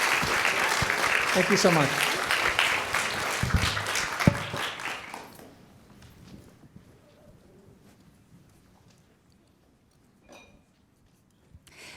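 Audience applause for panel guests at a talk, a dense burst of clapping for about five seconds under a spoken thank-you, fading away into near silence with a few faint stray sounds.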